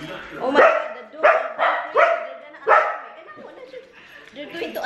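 Several dogs bark excitedly in a burst of loud, close yips and barks, about five sharp outbursts with whimpers between, while someone talks over them.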